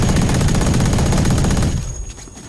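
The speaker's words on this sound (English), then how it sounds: "They're shooting me." Gunfire in the video game Valorant: a loud, close, sustained rapid burst of automatic shots for nearly two seconds, then cutting off to quieter game ambience.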